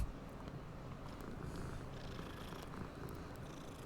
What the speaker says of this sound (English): let's pet this cat.